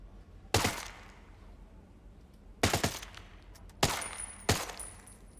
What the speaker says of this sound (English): Don't really like the way this AK does single fire though